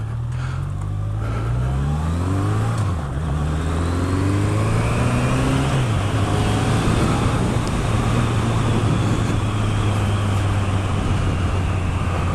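A Honda CB1100 motorcycle pulls away and rides on, its engine rising in pitch through the gears with clear shifts before settling into a steady, loud cruising drone mixed with wind noise.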